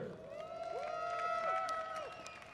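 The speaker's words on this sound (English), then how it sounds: "you hear the support from the crowd there for Linkletter and the field" A crowd cheers for runner Rory Linkletter at the men's 10,000m Canadian Championship at the Pacific Distance Carnival 2024, with sustained overlapping shouts and whoops rising and falling at moderate distance, and a little clapping mixed in.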